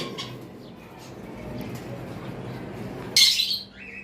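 A single sharp, loud cockatiel screech bursts out near the end over a low background hum and rustle.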